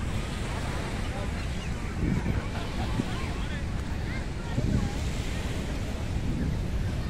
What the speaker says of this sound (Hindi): समंदर की लहरों में